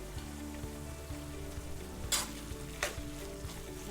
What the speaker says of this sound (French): Ça, c'est un mélange de la farine avec du beurre. Nous mélangeons là pour lui donner un petit peu épais.